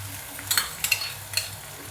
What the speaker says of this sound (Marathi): परतला का बघते. चांगला परतला कांदा.